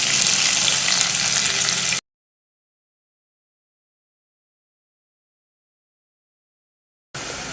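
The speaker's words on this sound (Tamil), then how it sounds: "வெங்காயம் நல்லா வதங்கிடுச்சு." Onions sautéing in a pan with curry leaves in oil, a bright continuous sizzle for about two seconds, then a long stretch of complete silence before the frying sound returns briefly.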